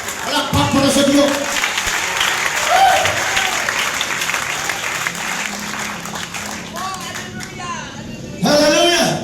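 A church congregation applauds continuously, with loud, dense clapping and crowd murmur filling the room while a preacher's voice speaks over it.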